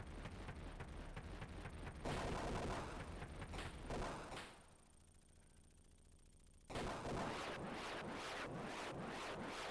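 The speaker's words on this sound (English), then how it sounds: "Oh, those are missiles." Missiles fire in a Sega Genesis video game, a dense run of loud, rapid bursts and booms that drops to a quieter hum midway, then resumes as a steady barrage.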